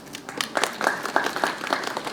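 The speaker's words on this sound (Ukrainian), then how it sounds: "Дякую, оплески." Brief, fairly faint burst of crowd hand clapping at a ceremonial street opening, scattered claps merging into light applause for about two seconds.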